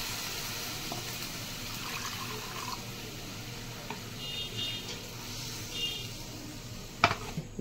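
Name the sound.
milk and water being added to a cooking pan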